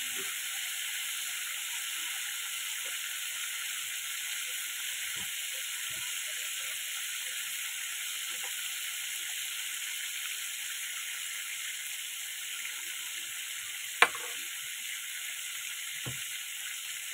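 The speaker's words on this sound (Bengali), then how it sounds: "আলুটা একটু লাল লাল করে ভেজে নেবো" Potatoes fry in a pan with a soft, even hiss that runs unbroken and fairly faint throughout, punctuated by a single sharp clink near the end and a few faint knocks.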